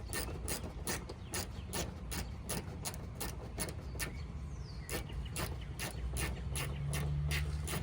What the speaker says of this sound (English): we're putting the screw back on right now, using the 10 millimeter